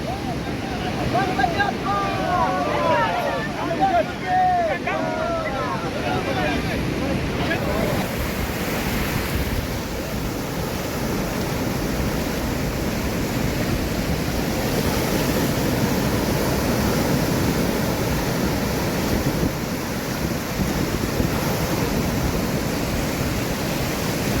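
Rough sea waves surge and crash at the shore during a Ganesh immersion on Anant Chaturdashi on the Sindhudurg coast of Konkan, a loud continuous roar with wind buffeting the microphone and brief voices early on.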